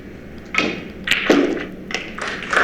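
Snooker balls clicking together in a cue ball cannon shot during a professional tournament match, several sharp clacks and soft thuds spread over a few seconds, close and clear in a quiet hall.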